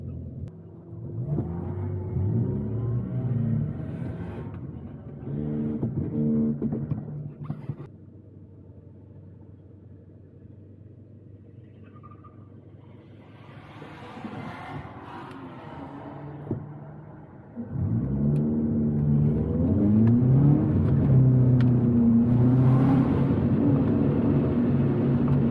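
A car runs a slow first autocross lap, its engine droning and revving close by with shifting pitch, dropping to a quieter idle midway before surging back loud and steady.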